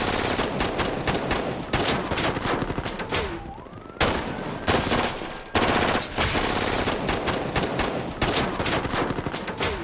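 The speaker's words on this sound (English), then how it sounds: "we hear and see automatic gunfire" Rapid bursts of automatic gunfire in a film shootout rattle loudly and repeatedly, with a short lull and a faint whistling sweep midway before the firing resumes.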